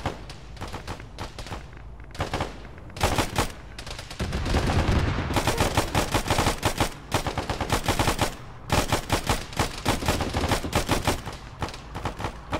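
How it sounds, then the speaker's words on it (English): Gunfire in an ArmA combat game, bursts of rapid machine-gun fire and single shots arriving in uneven clusters, fairly loud with a sustained volley in the middle and short pauses between later bursts. "Firing not too distant to the northeast."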